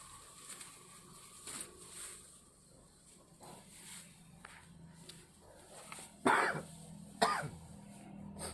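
Coughing or throat clearing breaks out twice in quick bursts, fairly close, while two people weed outdoors, with soft rustling and faint background sounds in between.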